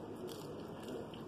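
Air-fried french fries are bitten and chewed close to the mic, giving soft, crisp crunches in a quiet room.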